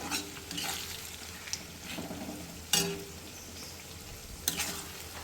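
Spices lightly dry-frying in a pan before being blended into a paste, a steady soft sizzle with occasional stirring scrapes and a few louder bursts, close and alone.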